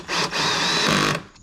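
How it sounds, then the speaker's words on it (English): A power drill drives a bolt while a Rough Country Black Series quad LED pod light is mounted on a JL Jeep Wrangler, a loud whirring motor burst lasting about a second with a brief pitch change midway. "I gotta get a better drill for this, like an impact one"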